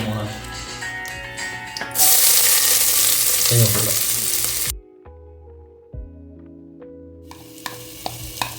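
Chopped onion hits hot ghee and coconut oil with cardamom, cloves and cinnamon for a cooker biryani, setting off a loud, steady sizzle that drops away abruptly, leaving quiet stirring clinks and faint kitchen noise.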